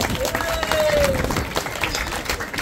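An audience claps together in a dense, continuous burst of applause, loud and close, with a brief whistle-like tone through it.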